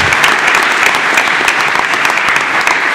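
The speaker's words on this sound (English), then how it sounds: "Let's give another round of applause to the exceptional students and our outstanding educator." A dense, steady burst of applause from a large crowd at a school board meeting, many hands clapping continuously at a fairly loud level with no pauses.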